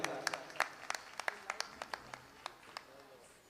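Audience clapping at a Jain Panchkalyanak religious ceremony in Nenagir, a sparse, faint scattering of individual claps that rises briefly and then thins out to a few lone claps.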